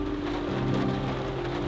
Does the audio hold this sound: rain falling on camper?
yes